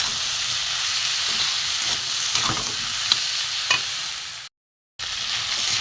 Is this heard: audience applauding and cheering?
no